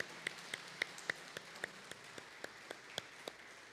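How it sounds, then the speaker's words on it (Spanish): Sparse, faint clapping at a Sunday church class for a birthday guest, a dozen or so evenly spaced claps from a few hands in a quiet room. "le vamos a dar un aplauso"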